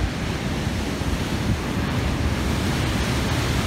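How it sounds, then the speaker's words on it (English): Water rushes loudly and steadily through a narrow gorge in Mistaya Canyon, a dense, continuous roar with wind buffeting the microphone and no voices. "the volume of water coming through that side and entering this little gorge here"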